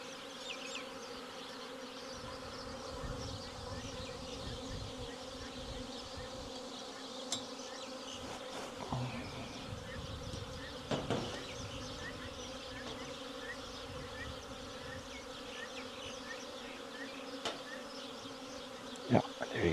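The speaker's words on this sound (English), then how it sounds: "Oh, there's a wasp there." Wasps buzz continuously around a beehive under attack, a dense droning hum close to the hive that holds steady throughout, with occasional louder passes near the microphone.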